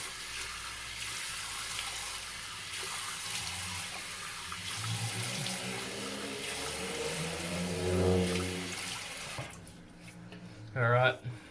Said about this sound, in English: I'm just going to do just a small splash of hot water on the face